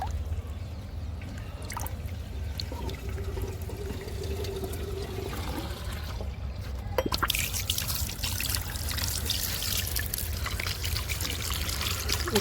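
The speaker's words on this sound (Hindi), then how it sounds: "पानी अच्छे से निकल जाएगा" Water trickles and drains steadily from a pile of used tea leaves, a soft, continuous dribbling heard close by, with a few faint clicks and a brief louder splash partway through.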